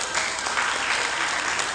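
A short burst of steady applause from a seated audience at a school curriculum workshop, dense and even from start to finish.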